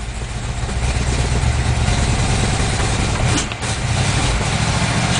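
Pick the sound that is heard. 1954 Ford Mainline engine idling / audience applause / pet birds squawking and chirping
1954 Ford Mainline engine idling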